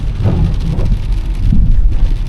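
Heavy rain pours down in a loud, dense, steady wash of noise, close and continuous, with no talking.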